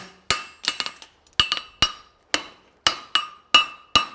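Hammer blows ring out on a hot steel horseshoe at the anvil while forging a hind preventer shoe, about ten sharp metallic strikes in quick groups with bouncing rebounds, close and loud with no talking.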